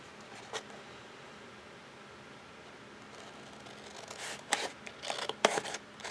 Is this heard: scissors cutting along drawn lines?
yes